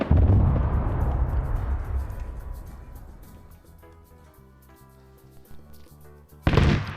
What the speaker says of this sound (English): Tank round landed square in this formation.